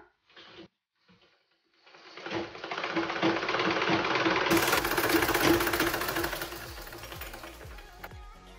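Sewing machine run by turning its handwheel during a tailoring lesson: after a few soft clicks and a pause, a steady rhythmic mechanical whirr builds and continues close by.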